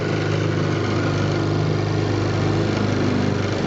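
A 1933 Johnson A-65 outboard motor of 4.1 hp runs slightly lean, a loud, close, steady buzzing engine drone with a fast regular firing pulse and no pauses.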